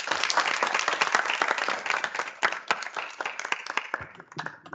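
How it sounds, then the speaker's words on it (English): An audience at a public hybrid lecture applauds an opening speaker, a dense burst of many hands clapping that gradually thins out and fades over a few seconds. "May we please give him a round of applause."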